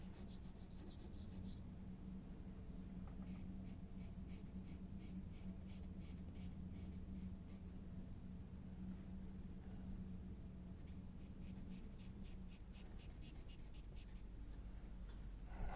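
Pencil shading on paper while drawing rocks for a river bed scene, a soft, steady scratching of back-and-forth strokes that runs continuously, quiet and close, with no speech.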